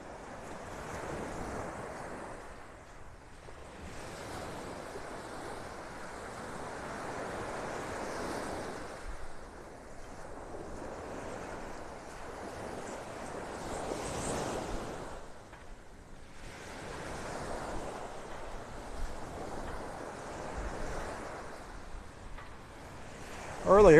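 Ocean surf rolls onto a hard-sand beach in North Naples, Florida, on a cool morning, a broad, continuous wash that swells and fades with wind buffeting the microphone.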